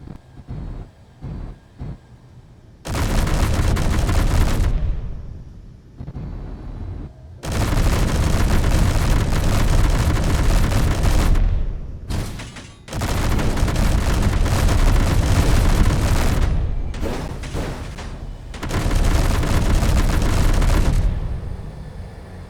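Space station guns firing in the Space Engineers video game, long loud roaring bursts of sustained fire separated by short gaps and a few brief pops.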